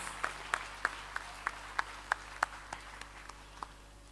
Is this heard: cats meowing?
no